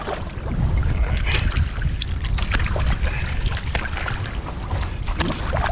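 A kayak is paddled across a flooded storm basin after Hurricane Ida, with water sloshing and splashing under steady, heavy wind noise blowing across the microphone.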